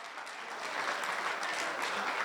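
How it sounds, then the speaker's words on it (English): Applause for a speech at a celebration fills the room, a dense, steady wash of many hands clapping at once, close and loud, with no voices standing out. "Big round of applause."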